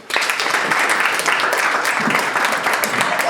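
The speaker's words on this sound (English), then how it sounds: "Let's clap hands for them." Audience applause at an event about youth-led African food systems, a dense, steady clatter of many hands clapping together that carries evenly through the whole stretch with a few voices mixed in.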